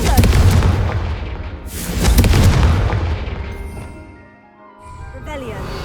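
Confringo blasting spell in Hogwarts Legacy, two loud booming explosions in quick succession with rumbling decay, followed by a voice and a brief magical shimmer.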